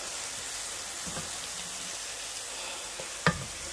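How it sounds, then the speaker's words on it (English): Meatballs sauté in a pan with a soft, even sizzle throughout and a few faint ticks, then one sharp clack near the end; no one speaks. "But they'll saute real nicely and good"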